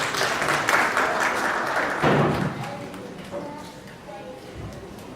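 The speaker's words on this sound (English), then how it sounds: "So you can give them a big round of applause for helping." Children and audience clapping for young volunteers at a science lecture on parasites, a dense burst of applause that fades after a couple of seconds into a room murmur, with a thud and some movement as the volunteers come forward.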